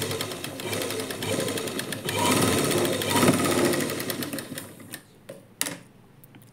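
A sewing machine stitches a seam on a lining blouse, a steady mechanical whir running loud and even before stopping, followed by a few short clicks and knocks near the end.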